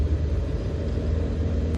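A 1968 Triumph Herald 13/60 convertible on the move, its engine a steady low rumble with road and wind noise, continuous and close, no talking.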